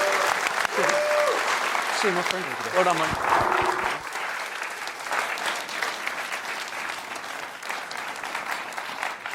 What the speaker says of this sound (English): a round of applause for Dev Sahni as well